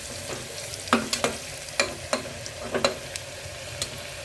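Tomato dropped into onions frying in a pan, a low steady sizzle with a handful of sharp utensil clinks and scrapes spaced irregularly, close and fairly quiet, no voices.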